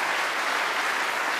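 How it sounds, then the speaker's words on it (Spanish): Audience at a Catholic apologetics talk bursts into dense, loud applause, a brief continuous wash of clapping with no voices over it. "Un aplauso."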